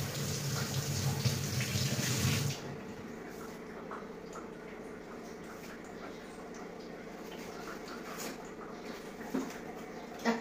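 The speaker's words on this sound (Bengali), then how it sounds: "অনেক জল দেওয়া, বেশি জল দেওয়া।" Water pouring from a tap into a cooking pot in a home kitchen, a loud rushing stream for a couple of seconds, then stopping, leaving quieter kitchen clatter and background hum.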